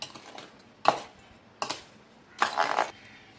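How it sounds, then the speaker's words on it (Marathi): Sago and poha flours being mixed by hand in a wide plate, heard as three separate soft scraping, rustling bursts against the metal, the last one longer, with quiet gaps between and no talk. "ही आता मिक्स करून घेऊया परातीमध्ये"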